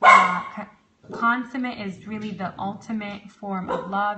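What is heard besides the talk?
dog barking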